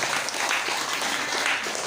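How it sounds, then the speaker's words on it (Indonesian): Applause from a seated audience at a health-therapy card distribution gathering, a dense steady patter of many hands clapping for about two seconds, fairly loud and continuous without pause. "Tepuk tangan dulu dong Bapak Ibu."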